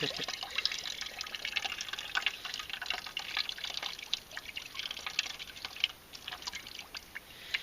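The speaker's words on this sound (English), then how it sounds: "You're going to see all that moisture that's going to come out of this." Water wrung out of a soaked brain-tanned deer hide, trickling and dribbling steadily at close range with fine irregular splashes and drips.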